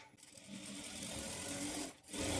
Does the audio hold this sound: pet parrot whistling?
no